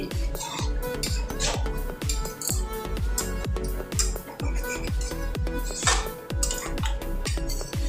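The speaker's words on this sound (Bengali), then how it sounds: "পরিমাণ মতো আপনারা জলটা দিয়ে দিন। দিয়ে ভালো করে আমি মিশিয়ে নিচ্ছি।" Cauliflower, potatoes and chickpeas stirred in a pan after water is added, a rapid run of metal spoon scrapes and clanks against the pot, close and fairly loud, with a steady rhythm.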